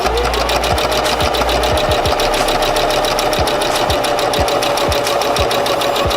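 A sewing machine stitches fabric with a fast, loud, continuous mechanical whir and rapid needle ticking, steady throughout with no pause.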